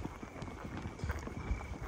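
A horse's hooves clip-clop in a quick, uneven rhythm during a foggy, cold night ride, close and fairly soft, with no voices.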